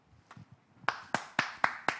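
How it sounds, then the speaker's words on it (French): Hands clap five times in a sharp, evenly spaced rhythm, close and crisp, after a few softer taps at the start; there is no talking. "vous venez d'applaudir tous,"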